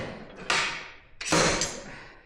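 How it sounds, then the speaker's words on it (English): Two sharp metallic impacts about a second apart, each a loud bang followed by a ringing decay, as a slide hammer yanks a stuck steering head bearing from a dirt bike. "now we're gonna slide a hammer of that sucker out"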